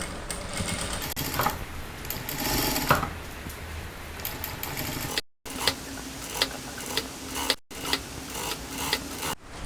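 Sewing machine running a press stitch along a blouse neckline: a steady, close, loud mechanical whirr in long bursts, broken by two brief stops, with no talking.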